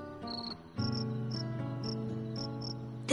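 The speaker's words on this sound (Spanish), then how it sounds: "El grillo, sereno, contento, cantaba melodías de amor." A cricket chirping on a clear night, giving short high trills repeated at a steady pace over a low tonal background, fairly close and distinct with no talking.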